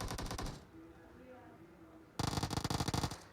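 Automatic AKM rifle fire from Battlegrounds Mobile India, heard as two loud bursts of rapid shots with a quieter stretch between them.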